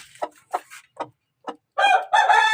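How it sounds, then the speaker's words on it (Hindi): Chickens cluck in a few short, separate calls, then break into louder, longer squawking nearby, with no talking. "ये देखें, यहाँ अंदर मुर्गी हैं,"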